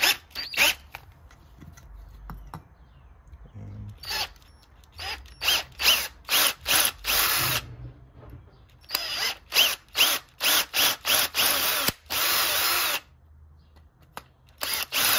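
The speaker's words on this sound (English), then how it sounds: "put this on my drill." A power drill drilling metal whirs in repeated short bursts, starting and stopping rapidly, then runs in a couple of longer pulls; close and loud, no talking.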